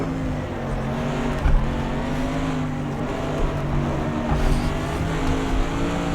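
GT3 race cars at Le Mans in a racing video game, engines droning loud and steady at high speed with a constant roar and slight pitch shifts, and no voices over it.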